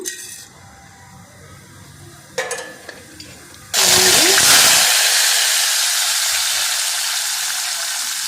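Seeds dropped into hot oil left over from boiling bitter gourd, with a couple of cloves, burst into a loud, steady sizzle that starts abruptly after a few quieter clinks and stays strong to the end.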